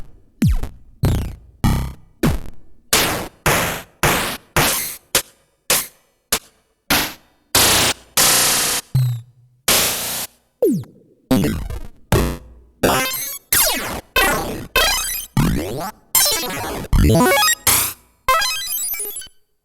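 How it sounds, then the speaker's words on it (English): Crunchy 8-bit drum hits and arcade-style bleeps from a Sonicware Liven 8Bit Warps synth, played one after another as a rapid series of short, loud, separate sounds with brief gaps between them. "So as you can hear, some nice crunchy drum sounds and some very kind of arcadey,"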